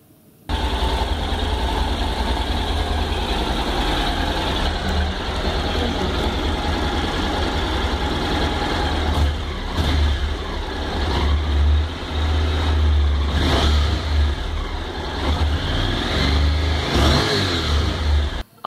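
A motorcycle named Aveline, back in use after a long rest, starts and settles into a steady low chugging idle, then revs up in several swells toward the end. The engine is close, loud and continuous, with no one talking over it.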